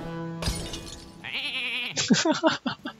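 In the Hearthstone card game, a shattering magical burst gives way to a wavering cartoon sheep bleat, followed by a person talking over the game sounds.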